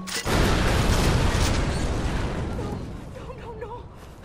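An explosion in the video game Far Cry 4 erupts as a sudden loud boom, then a long roaring rumble slowly fades away.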